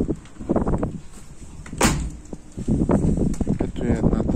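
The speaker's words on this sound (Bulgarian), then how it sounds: "Вратата се затваря перфектно." A side door on a Volkswagen Caddy van thuds shut near 1.8 s, close and fairly loud, with engine or street noise and a voice talking around it.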